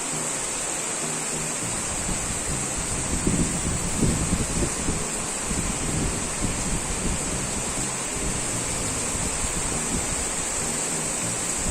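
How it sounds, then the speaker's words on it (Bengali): Heavy rain falls in a constant dense hiss, a broad steady roar with no clear breaks, heard alone without talking. "আর আমি তোমাদেরকে ব্যাক ক্যামেরা দিয়ে দেখাচ্ছি যে কতটা বৃষ্টি হচ্ছে।"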